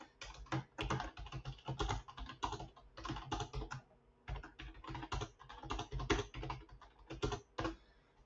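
Notes are typed into a CRM on a computer keyboard in dense, rapid bursts of clicking keystrokes with a brief pause midway, close and clear with no talking.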